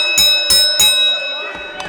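Wrestling ring bell struck repeatedly at a live event: three quick, bright metallic clangs in close succession with a sustained ringing tone, followed by fainter strikes under crowd noise.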